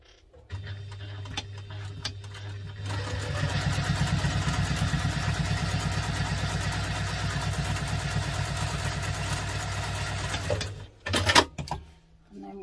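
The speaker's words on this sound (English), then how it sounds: "So now we're going to top stitch that." A sewing machine top stitches a sling bag, running in one steady rapid burst for about seven seconds over a low motor hum, then stopping, with a few brief handling knocks near the end.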